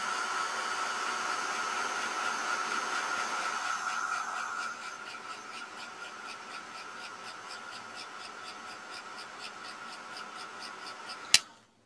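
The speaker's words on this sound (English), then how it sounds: "I'm going to hit this with a heat gun because I keep lifting." A heat gun blows steadily on a handmade paper Christmas tree card, a broad continuous whoosh that drops a little partway through, ending with a sharp click as it switches off.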